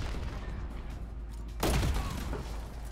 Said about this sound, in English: Why are there fireworks outside?